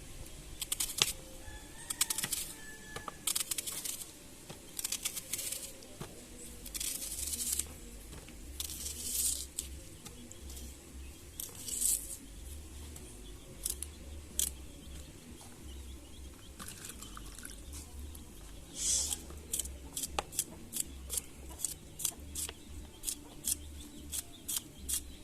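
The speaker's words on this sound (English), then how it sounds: "Cut up one onion and see man." Knife chopping an onion for curry chicken, a scattered series of crisp close cuts and taps, pausing now and then, with faint background rustle.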